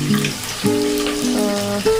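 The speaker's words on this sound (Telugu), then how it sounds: "బిర్యానీకి పోపు పెడుతున్నాం కొంచెం ఆయిల్ కొంచెం నెయ్యి వేసి జీలకర్ర వేసి" Cumin seeds crackle and sizzle in hot oil and ghee, tempering for a veg biryani; a close, steady frying hiss with a few tonal hums running underneath.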